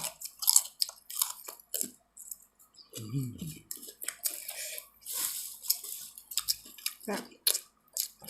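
Close, crunchy chewing of spicy green papaya salad (som tam) with chillies, in bursts with pauses, mixed with brief talk and soft clinks.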